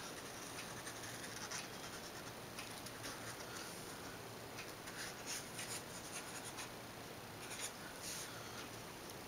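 A pen scratches steadily across paper in short continuous strokes, close and quiet, with no voices.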